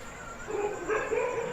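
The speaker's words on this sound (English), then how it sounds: "Dogs prowl the village streets." Dogs in the village streets near India's Gir Forest at night give short, whining yelps and barks at a moderate distance, lasting only a moment over faint background noise.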